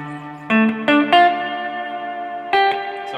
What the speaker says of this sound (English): let's just hear the reverb on its own first before we put it into the delay